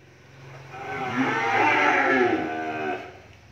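A cow on a Vietnamese cattle farm moos in one long, loud, drawn-out low call lasting about three seconds, close by and with no talk over it.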